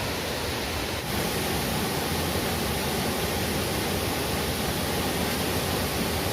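Pelangi waterfall in Indonesia roars with dense, unbroken rushing water, loud and close, with no voices.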